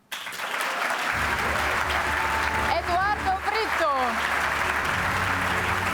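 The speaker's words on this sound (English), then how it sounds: "please join us in giving a warm round of applause to our 3 finalists" A ceremony audience gives sustained, full applause for essay competition finalists, while a voice announces names over the clapping partway through.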